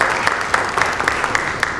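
Audience at a summer youth theater camp performance breaks into applause, a dense, lively burst of clapping close and loud for the whole moment.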